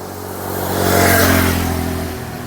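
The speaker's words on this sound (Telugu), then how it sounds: "బైక్లు ఎక్కువ ప్రయాణం చేస్తున్నాయి." A motorbike passes along a road through bamboo forest after rain, its engine swelling louder as it approaches and then fading, a steady mid-pitched drone with no talk.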